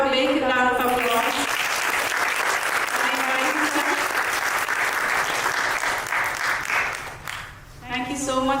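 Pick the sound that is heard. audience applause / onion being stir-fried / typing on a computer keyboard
audience applause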